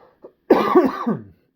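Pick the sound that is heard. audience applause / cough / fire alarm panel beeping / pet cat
cough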